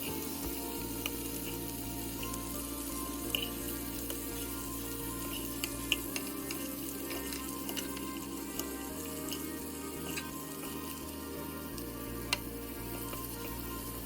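Stuffed squid frying in a pan with curry leaves: a steady, close sizzle runs throughout with faint occasional clicks and light stirring, and no talking.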